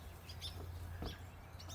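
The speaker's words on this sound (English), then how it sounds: "Every tree in my yard is full of robins." American robins chirping in backyard trees on a cold spring day, a few short high calls scattered over a low steady background hum, faint and distant.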